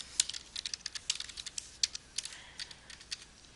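Quick, light keystrokes tap irregularly on a computer keyboard while entering lab order details for a new patient, a close, quiet run of clicks with no talking.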